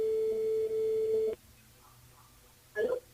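On a live radio call-in show, a telephone line gives a steady electronic tone that cuts off abruptly, then after a short quiet pause a faint voice answers.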